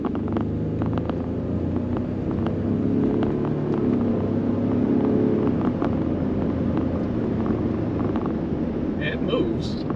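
A Ford F-150 pickup truck accelerates on the road, its steady engine rumble rising under wind and road noise heard from inside the cab, with someone speaking over it.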